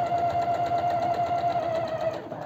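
A sewing machine runs steadily at close range while stitching a vest seam, giving a continuous rapid mechanical chatter that slows slightly at the end.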